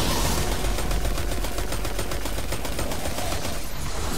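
Steady rapid automatic gunfire from the shooter Destiny, a loud, evenly pulsing stream of shots that runs without a break and with no talk over it.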